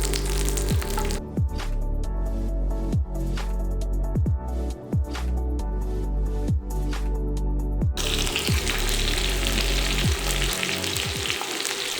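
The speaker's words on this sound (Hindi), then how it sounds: "थोड़ा सा गरम तवे पे हमने ऑयल डालना है। गोल गोल स्लाइस में हमने प्याज को काट लिया है। इनको हल्का हल्का हमने गोल्डन करना है।" Onion slices frying in oil on a hot griddle, a steady loud sizzle with rhythmic scraping stirs repeating about once a second, then the hiss swells brighter toward the end; no voices.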